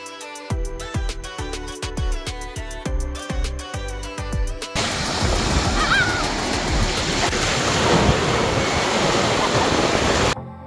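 Ocean waves wash steadily onto a sandy beach at a beach resort, a continuous broadband surf roar that takes over midway after a burst of rhythmic music, with no talk.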